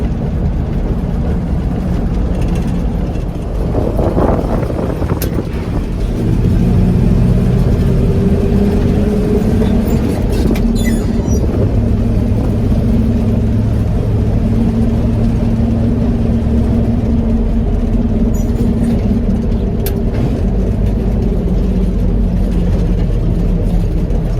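A 1979 Ford L-600 truck with 194,000 miles, its engine droning loud and steady from inside the cab during a ride, with a low rumble and slight shifts in pitch as it pulls along.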